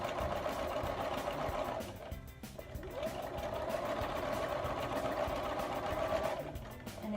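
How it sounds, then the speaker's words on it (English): A sewing machine stitches a fabric seam along a 5/8 seam allowance for a pocket, humming in a steady mechanical whir that pauses briefly around the two-second mark, then resumes and runs on. "start on this side, lining it up with the 5/8 mark and sewing directly down this way."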